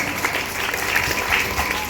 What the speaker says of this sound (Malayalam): ഇവിടെ ഉപദേശ സമിതികൾക്ക് എല്ലാവർക്കും ഒരു കയ്യടി കൊടുക്കണം